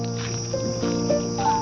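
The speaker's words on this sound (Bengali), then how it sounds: "ঝিঝি পোকা ডাকছে" Crickets chirp at dusk beside a village pond, a dense steady trilling chorus filling the air with layered, ringing tones and no pause.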